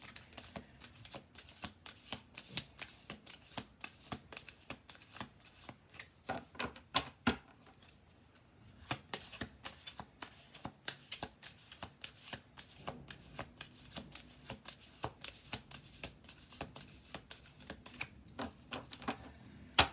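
A deck of tarot-style cards is shuffled by hand in rapid, crisp riffling bursts, close up and continuous apart from a brief pause midway, with no voices.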